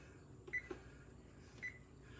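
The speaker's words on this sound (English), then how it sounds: "We are going to set our timer" Oven timer buttons are pressed on a kitchen oven, giving two short, faint electronic beeps about a second apart, alongside a soft tap, in a quiet room.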